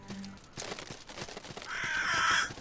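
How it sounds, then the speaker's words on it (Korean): A crow in the video game Salt and Sanctuary gives a few close, harsh caws, ending in a louder, longer rasping call. "안녕 까마귀 안녕."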